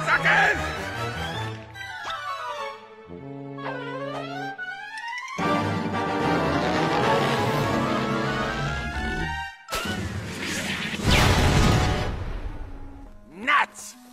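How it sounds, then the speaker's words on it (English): Cartoon nuts explode in a loud, busy burst of crashes and bangs set against orchestral music, with a sharp final hit near the end. "Nuts! Exploding nuts!"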